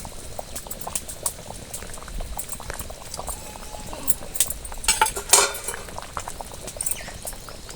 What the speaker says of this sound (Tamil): இப்போ குழம்பு நல்லா கொதித்து வெந்துருச்சுங்க